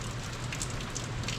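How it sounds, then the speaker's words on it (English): Rain and hail pour down in a hailstorm at Estes Park, a dense, steady hiss of drops and pellets drumming on surfaces and running off a roof, close and continuous. "that was a pretty big rain and hail"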